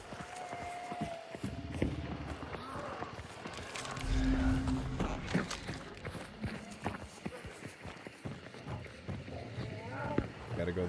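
Horses gallop and clop through a rough, busy patch in the Hunt: Showdown video game, their hoofbeats mixed with footsteps and movement noise and a voice talking over it.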